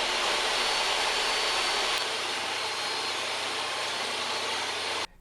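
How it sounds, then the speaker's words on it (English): DeWalt DWE7485 table saw ripping a 1-inch thick board of hard maple: a loud, steady broadband whir of blade and motor for about five seconds, easing slightly partway through, then cutting off abruptly. "So is ripping this 1-inch thick piece of hard maple."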